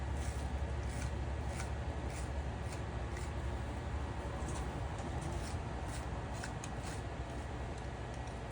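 Scissors snip broccoli microgreens from a growing tray in a run of quick, faint, crisp clips repeating at an uneven pace over a low steady background hum, with no voices.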